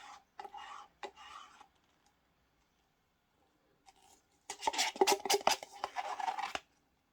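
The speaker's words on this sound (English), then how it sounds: "I love it when you scrape out a resin pot like this." A tool scrapes out a resin pot in quick rasping strokes that come in short bursts, then build to a louder, busier stretch of close scraping near the end.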